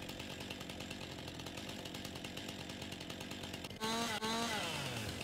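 A chainsaw trims tree limbs in Farming Simulator 22, giving a continuous buzzing drone that suddenly revs higher and louder near the end with a brief dip in between.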